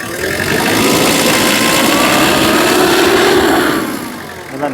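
A 2014 Tata Sumo's engine revs hard and steadily for about four seconds, loud and close, with rising and falling pitch before it drops back toward idle at the end.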